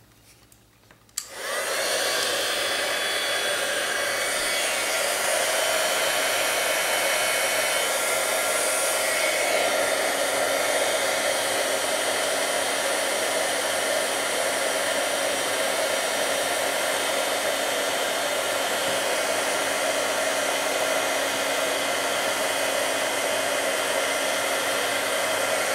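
A heat gun powers up for heat embossing on a stamped star card and keeps up a steady, loud blowing whoosh, close and unbroken, with no one speaking.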